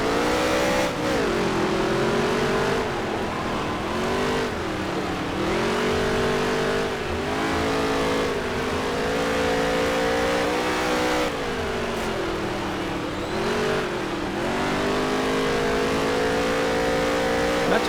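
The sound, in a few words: race car engines driving in video game NASCAR Heat 3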